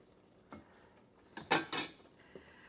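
Shrimp and fennel risotto stirred in a pot with a metal spoon, a few distinct scraping clinks against the pot, with one sharp cluster of knocks in the middle and quiet gaps between.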